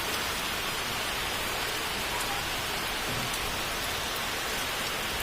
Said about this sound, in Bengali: দেখো বন্ধুরা বাইরে কি বৃষ্টি হচ্ছে।